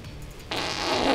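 A fart sounds abruptly up close, a sustained loud rough hissing blast that keeps going for most of a second.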